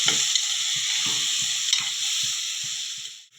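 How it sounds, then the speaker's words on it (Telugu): Ivy gourd fries in oil with a continuous loud sizzle, while a spoon stirs the pan in a series of regular soft scraping knocks. "దొండకాయలు అయితే వేస్తున్నాను నూనెలో. బాగా వేగాలి నూనెలో"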